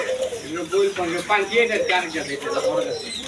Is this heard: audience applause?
no